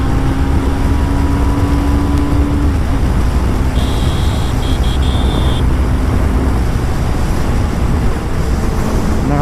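A 2020 BS6 TVS Apache RR310 motorcycle engine runs loud and close in a constant droning roar, its pitch dipping slightly partway through, with no talk over it.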